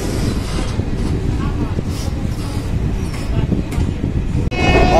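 A passenger train runs at reduced speed on the Moradabad–Bareilly line via Rampur, giving a steady low rumble and rattle throughout, with a brief sharp drop near the end followed by louder running noise.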